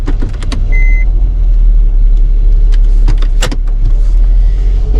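A Kia Sedona minivan at an auction lot: a loud, steady engine drone and low rumble while the vehicle reverses, with a few faint clicks and rattles over it.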